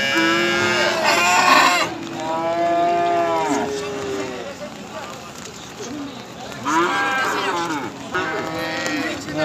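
Cattle lowing repeatedly at a busy livestock market, several loud drawn-out moos overlapping near and far, with people talking throughout.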